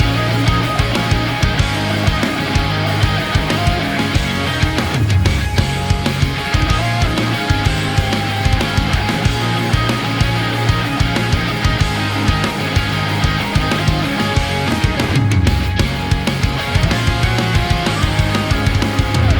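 A full rock song plays loud and steady, with drums pounding and distorted octave guitar leads layered over heavy rhythm guitars and bass.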